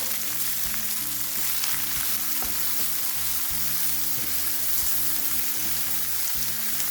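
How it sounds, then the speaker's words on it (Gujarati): Finely chopped onion fries in a pan for maa ki daal, giving a constant close sizzle with soft crackles and occasional stirring scrapes throughout. "હવે આપણે એમાં એક ઝીણો સમારેલો કાંદો એડ કરીએ છીએ"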